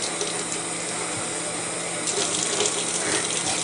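A kitchen tap runs steadily while a squid for fried squid balls is rinsed under it, water splashing and hissing close by, growing a little louder partway through.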